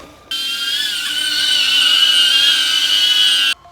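A small DJI Neo camera drone buzzes loudly and steadily with a high-pitched whine for about three seconds, close by, starting and stopping abruptly.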